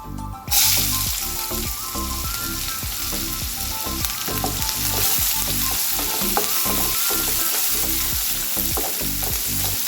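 Spices crackle and sizzle in hot oil in a pan for mango rice, a loud, dense frying hiss that starts abruptly and carries on steadily with rhythmic stirring clatter throughout, without voices.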